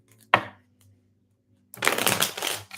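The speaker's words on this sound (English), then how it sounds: "Let me shuffle and break the deck again." A sharp tarot card snap, then after a short pause a dense, continuous riffling shuffle of the tarot deck, close and fairly loud.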